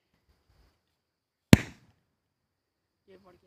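A single firecracker bursts with a sharp, loud crack and a short ringing tail, heard outdoors in a Gorkha hill village; faint voices murmur before it and chatter resumes afterward.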